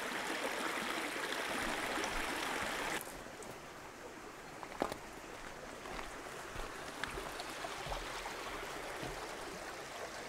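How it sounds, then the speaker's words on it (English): Clear water flows steadily from a tunnel drainage system at the Blaencwm portal, a constant rushing, trickling wash heard close and alone, louder for the first few seconds, then settling into a slightly softer continuous stream. "You can just see the water coming there, crystal clear."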